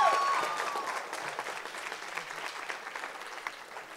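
Audience applause for Ms. Opal Lee at a high school Black History program, a steady wash of many hands clapping that fades slowly over several seconds.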